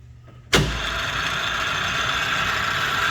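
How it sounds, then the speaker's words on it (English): Hardinge HLV lathe switched into high gear, starting with a sudden loud onset that settles into a steady whirring run, close and continuous. "We're going to flip it back to high gear."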